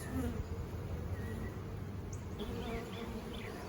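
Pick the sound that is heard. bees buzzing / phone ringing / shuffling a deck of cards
bees buzzing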